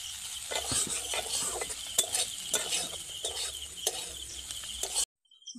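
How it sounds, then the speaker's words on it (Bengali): Shrimp fry in a pan for a shrimp mash, a soft steady sizzle broken by repeated scraping strokes of a utensil stirring, close and moderate, ending abruptly in silence. "তবুও আমি আর 2-1 মিনিট মতন ভেজে নেব"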